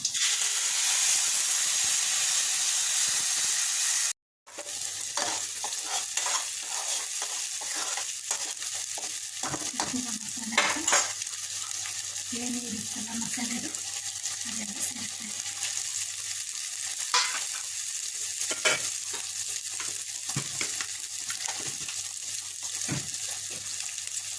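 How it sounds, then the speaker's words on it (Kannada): Onions and ground masala paste frying in a pan while being stirred, a steady loud sizzle with scraping stir strokes throughout, briefly cut off near the start, no talking. "ಈರುಳ್ಳಿ ಹಾಕಿದ್ದೀನಿ. ಆಮೇಲೆ ರುಬ್ಬಿದ್ದು ಮಸಾಲೆ ಹಾಕ್ತಾಯಿದ್ದೀನಿ."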